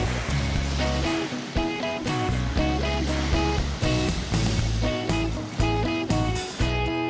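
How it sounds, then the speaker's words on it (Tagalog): Bolinao Falls in Pangasinan sends out a steady, dense roar of rushing water with no break, heard up close, while music plays over it. "Parang hindi nyo dapat ma-miss tong falls."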